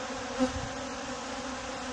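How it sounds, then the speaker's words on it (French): Honeybees robbing honey from a queenless, undefended hive produce a steady, dense buzzing drone that fills the whole stretch evenly, with one brief swell, and no voices. "Ici nous sommes devant une ruche où il y a du pillage."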